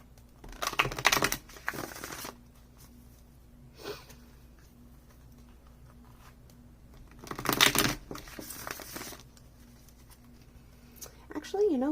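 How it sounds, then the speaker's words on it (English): Two bursts of large, flimsy-cardstock tarot cards being riffled and shuffled, a short flurry early and another later, separated by quieter handling noises. "This deck is almost too big for me to shuffle, but the cardstock is so flimsy that it works."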